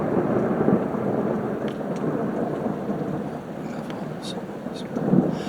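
Thunder rolls through a heavy thunderstorm over steady rain, a loud continuous rumble that swells again near the end.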